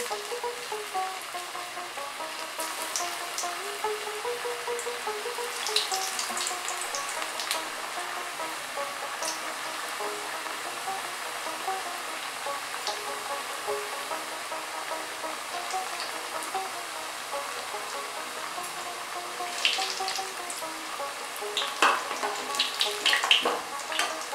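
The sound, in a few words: kachoris deep-frying in hot oil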